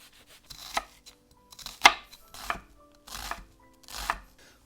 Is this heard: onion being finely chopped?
yes